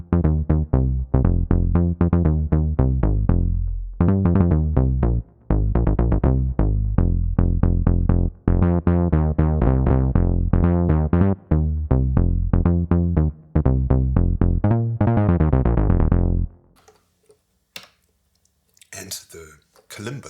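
A Korg Wavestate plays a bass synth patch: a loud, punchy run of rapid staccato bass notes in a driving rhythmic pattern that continues for about sixteen seconds. A faint voice follows afterward.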